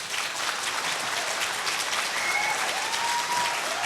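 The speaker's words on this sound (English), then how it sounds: "the court reporter can't hear over the applause" Audience at a public hearing applauding, a dense, steady roar of many hands clapping that holds loud and unbroken throughout.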